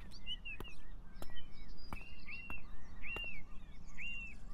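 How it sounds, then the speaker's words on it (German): Gulls give short, faint calls a few times in an open outdoor setting, mixed with sharp tapping clicks and low background noise. "Die Möwen wieder."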